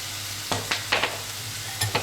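Bell pepper cooks in a little oil in a pan with a soft, steady sizzle. A few distinct scraping knocks from a utensil are spread through the short stretch, with no talking.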